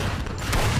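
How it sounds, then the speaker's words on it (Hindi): A short, dense burst of gunfire, many shots blurring together into a loud rattling volley with a low rumbling boom underneath. "गोलियों की बारिश हो रही थी"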